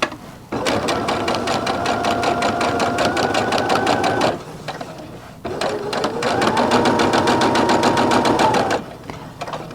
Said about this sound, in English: I'm going to stitch forward and back here.